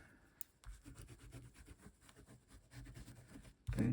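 Tape burnished down onto a paper page in a stitching journal, close, soft rubbing strokes in a quick irregular rhythm over a few seconds, ending with a brief louder knock.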